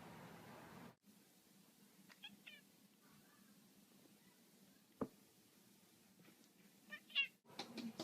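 A house cat meows several times in short, high, wavering calls spread across a quiet room, with one sharp knock partway through and faint background hiss between the meows.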